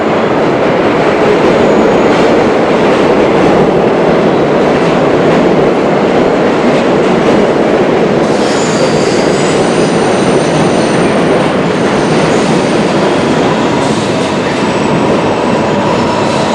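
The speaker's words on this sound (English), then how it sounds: "You'll see the train going right across the top, the white train." A white elevated New York subway train on the IRT New Lots Avenue line rumbles across overhead tracks, a steady loud roar of wheels and rail clatter sustained throughout, with a faint high squeal rising near the end.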